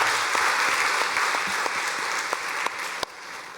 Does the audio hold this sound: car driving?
no